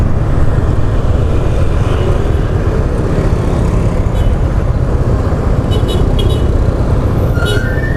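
A tanker truck speeds past on a busy road in Pangkal Pinang, its loud engine roar blending with dense, continuous traffic noise close by throughout, with brief higher whines near the end.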